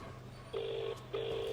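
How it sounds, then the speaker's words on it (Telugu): A telephone is dialed to place a call, giving two short, clean electronic tones in quick succession over a faint steady hum, fairly quiet and with no voices. "ఒక్క నిమిషం సార్, ఒక కాల్ చేసుకుంటాను."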